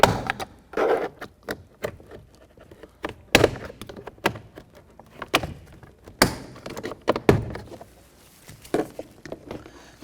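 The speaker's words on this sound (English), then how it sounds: "You're going to hear those plastic pins popping out and releasing." Plastic trim pins pop loose from a Chevy Equinox car door panel as it is pried off: a string of sharp, irregular close-up clicks and thunks with quieter scraping and handling between them.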